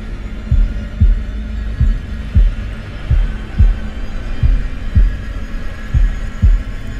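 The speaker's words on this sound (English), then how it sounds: "His heartbeat isn't in time." Heartbeat sound effect in the Man of Medan video game, a loud, deep, throbbing double thump repeating steadily about once a second over a low hum, with no talking.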